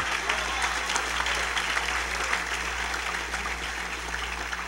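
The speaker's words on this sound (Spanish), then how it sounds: "Denle ese aplauso al Señor" Steady applause from a church congregation at a Thursday worship service, a dense wash of many hands clapping that holds evenly throughout against a low hum.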